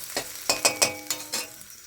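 Vegetables for vegetable chop, nearly fried, sizzle in a pan while a spatula scrapes and tosses them in about six quick, close, rhythmic strokes over a light hiss.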